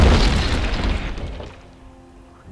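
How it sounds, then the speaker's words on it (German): Gunpowder charge blasting apart a rubble heap in the video game Die Siedler 5, a loud booming explosion with a crumbling, shattering burst that decays over about a second and a half into a low rumbling tail. "die Explosion zerriss den Geröllhaufen und das aufgestaute Wasser konnte ablaufen"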